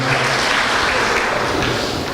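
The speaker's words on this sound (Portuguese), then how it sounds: "Muito bem, palmas para Juliana." Sustained applause from a church audience, a dense wash of clapping filling the whole stretch at steady loudness with no speech over it.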